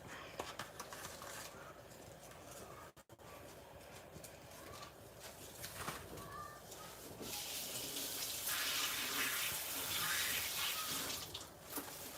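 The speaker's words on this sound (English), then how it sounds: "So I'm about to rinse some of it and then add it" Fresh bay leaves rinsed under a running kitchen tap while cooking Liberian pepper soup, soft clattering and handling at first, then a steady gushing stream of water that grows louder and fills the last few seconds.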